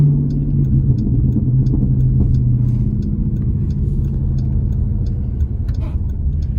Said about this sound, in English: That intake makes such a big difference.